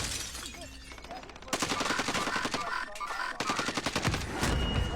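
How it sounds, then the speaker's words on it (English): Rapid bursts of automatic gunfire in a video game shootout around a tunnel, loud and repeated in rattling volleys with sharp single shots between them. "I tried to shoot this dude in the tunnel"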